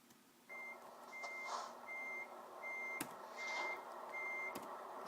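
Truck reversing alarm from a Volvo FH16 in Euro Truck Simulator 2 beeps in a steady repeating rhythm, clear and close over a continuous engine drone, with no talking.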